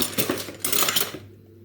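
Metal forks clatter and jingle against each other as they are handled up close, a brief burst of bright clinks lasting about a second before falling quiet.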